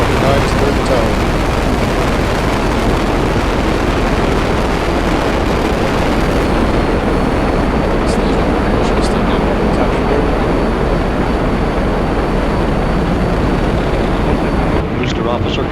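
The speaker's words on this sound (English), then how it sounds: "5, 4, 3, 2, 1, 0. And liftoff." A Falcon 9 rocket lifts off with a loud, continuous broadband roar that fills the whole stretch without letup, heavy and rumbling with crackle on top.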